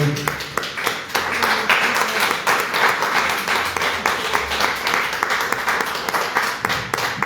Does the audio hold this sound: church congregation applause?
yes